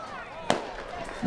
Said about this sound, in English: Beautiful fireworks show after homecoming game.